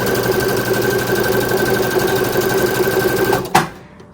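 A CP100X sewing machine stitches fabric in a steady, close, continuous whir with an even mechanical hum for several seconds, then stops abruptly with a brief clunk near the end.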